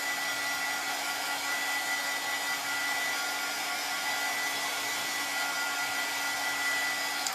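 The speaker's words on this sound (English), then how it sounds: "So I'm just going to use the dryer here." A handheld hair dryer blows a steady, even whir without a break as it dries a freshly made craft piece, running alone with no talk over it.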